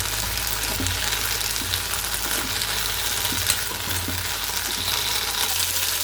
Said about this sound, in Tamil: இது கொஞ்சம் நல்லா வதங்கணும்